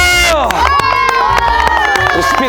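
An excited crowd at a prize ceremony for home run hitters cheers and shouts with children's voices. Sharp claps cut through loud, continuous close-up whooping and hubbub.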